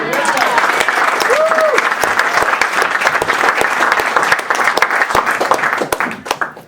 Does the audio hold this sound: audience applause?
yes